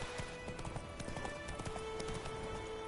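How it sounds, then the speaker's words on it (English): Horse hooves clip-clop at a steady trotting rhythm in the video game The Witcher 3, a quiet, even run of footfalls with no voices. "Whoa there, Roach."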